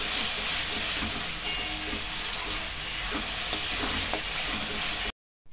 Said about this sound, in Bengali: দিয়ে আরও 1 মিনিট মতন আমি কষিয়ে নেবো মশলাটাকে